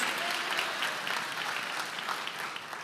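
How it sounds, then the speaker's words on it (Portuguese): A church congregation applauds throughout, a continuous dense patter of many hands clapping at moderate loudness with no talk over it. "Aplauda o Senhor, aplauda."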